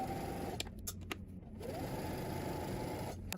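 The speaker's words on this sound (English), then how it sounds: "now we're going to head to the sewing machine" A sewing machine stitches a dress seam in close, steady whirring runs, pausing briefly midway with a few light clicks before resuming.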